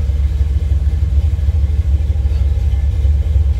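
1975 Chevrolet Camaro LT with a clutch converted to automatic, its engine idling in a close, steady, deep rumble with a slight throb and no voices.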